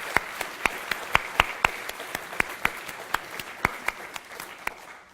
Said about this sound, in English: I will take a round of applause for them right now